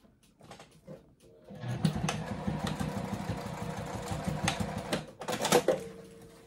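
A sewing machine stitches a Sallie Tomato circle bag with zipper pocket, lining and binding, running in a steady mechanical rattle for about four seconds after brief handling noises, then stopping with a few clicks.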